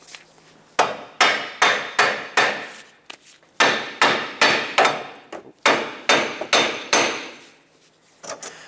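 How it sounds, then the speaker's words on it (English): Loud metallic hammer blows tapping out a front wheel bearing on a 2014–2021 Mazda 6 strike in steady bursts of three or four, pausing between groups, close up and ringing briefly after each hit. "use a hammer, tap it back and forth until the wheel bearing pops out"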